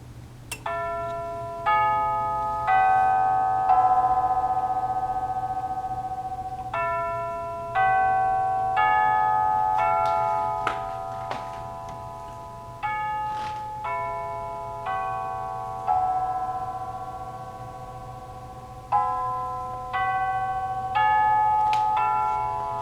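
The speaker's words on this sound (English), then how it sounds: "The tubular chimes in the back were just brass tubing" An electric grandfather clock with a walnut case strikes brass tubular chimes made from scrap tubing, ringing clear, repeated melodic phrases over a low steady hum, each note decaying slowly before the next strike.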